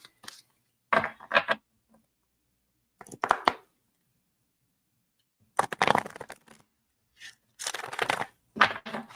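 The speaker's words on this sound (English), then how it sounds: "I'll give my cards a big shuffle" Several separate bursts of a deck of playing cards being shuffled, crisp riffling and flicking sounds up close, with quiet pauses between them.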